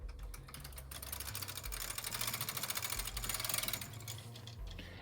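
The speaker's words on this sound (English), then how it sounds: "What you're going to do is slide the carriage over." Carriage of a Brother KH 230 chunky knitting machine slid across one row, a continuous close mechanical clatter and rattling hum that swells mid-pass and eases toward the end.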